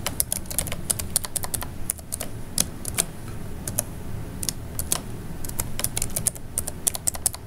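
Someone types a passphrase on a computer keyboard, producing irregular bursts of sharp, close key clicks with brief pauses between runs, steady and moderately loud with no talking.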